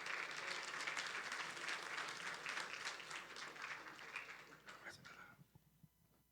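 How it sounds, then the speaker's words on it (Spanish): Audience applause at a church leadership conference welcomes a pastor to the stage, loud and sustained, then thinning out and fading to scattered claps near the end. "recibámonos al pastor David Barceló con un fuerte aplauso"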